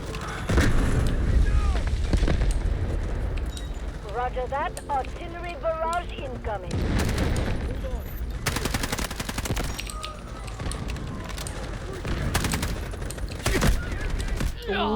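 Rapid automatic gunfire and bursts from the Delta Force shooter game, with loud, dense volleys running through most of the stretch, some gaps, and someone talking excitedly over the shooting.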